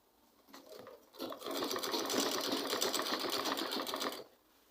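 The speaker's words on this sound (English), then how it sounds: "I'm not sewing on top of the foam." A sewing machine stitches turban fabric beside foam in one continuous run of about three seconds, a rapid steady rattling hum that is close and fairly quiet with no talk.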